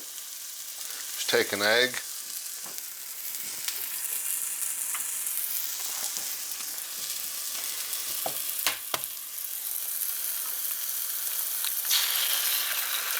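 Small sausage patties sizzle in a greasy frying pan with a steady, crackling fry, joined by a few clinks and scrapes of a utensil, while someone talks briefly early on.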